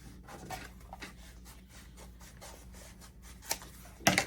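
Scissors cut through craft foam flower petals at a table, producing soft, close rasping snips spread across a few seconds, with two sharper cuts near the end.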